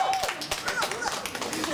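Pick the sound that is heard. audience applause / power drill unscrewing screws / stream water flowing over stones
audience applause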